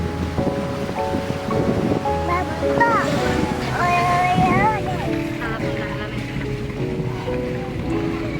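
Water rushes down the Vagni waterfall during the monsoon rain, a steady broad roar that fills the whole clip while people talk and call out over it.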